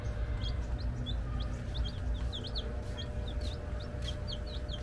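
Many chicks peep in rapid overlapping chirps for sale in a store, over a steady background hum, continuous and fairly close.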